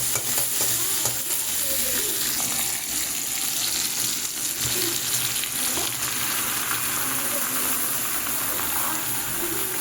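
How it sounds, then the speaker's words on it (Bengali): Thinly sliced bottle gourd with tomato and green chillies fries in a pan, giving a constant close sizzle with soft irregular stirring scrapes running through it. "লাউগুলোকেও দিয়ে দিয়েছি এবার আমি লাউগুলো একটু নেড়ে নেব"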